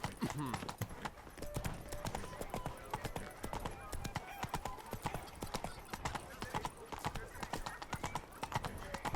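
A horse's hooves clip-clop in a steady, rapid trot throughout a scene from the video game The Witcher 3: Blood and Wine. The sound is close and continuous, with an occasional snort and a voice talking over it.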